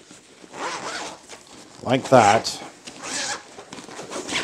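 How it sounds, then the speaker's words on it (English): A zipper is pulled around a board game backpack in several rasping strokes, the loudest and closest near the middle, while someone speaks briefly. "So the zipper goes all the way around,"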